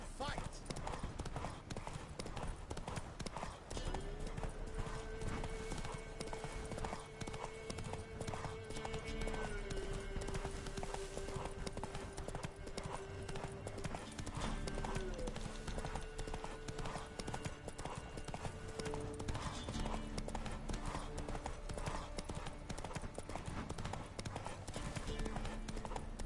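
Roach the horse gallops in The Witcher 3, with rapid, steady hoofbeats close up throughout, under a sustained musical score and a voice.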